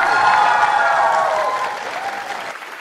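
Television show studio audience applauding a male singer, a dense burst of clapping that starts loud and gradually fades over about three seconds.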